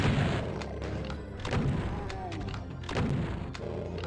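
Rockets explode in Doom II on an ultraviolence fast-monsters map, a series of deep booms and thuds over continuous game rumble, with someone talking over the blasts.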